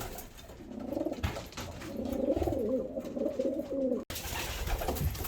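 Pigeons coo close by in soft, throaty, rolling phrases that repeat over a steady background of rustling and splashing. The cooing carries on for several seconds.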